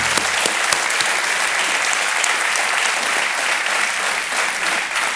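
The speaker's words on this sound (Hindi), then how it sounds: "बहुत बहुत तालियों के साथ" Studio audience on the quiz show KBC applauds loudly and steadily, a dense wash of many hands clapping that holds at full strength for about five seconds.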